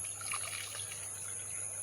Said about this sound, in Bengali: প্রবল বৃষ্টি হওয়ার কারণে পানি একদিক থেকে অন্যদিকে যাচ্ছে।